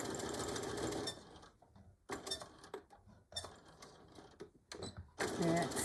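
A sewing machine back stitching a beach or diaper bag runs in short bursts, starting and stopping several times, with handling clatter in the pauses and a voice heard briefly.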